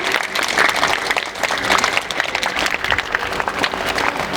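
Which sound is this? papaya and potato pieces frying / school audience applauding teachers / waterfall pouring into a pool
school audience applauding teachers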